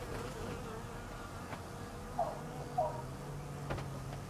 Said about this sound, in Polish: Pszczoły zostały.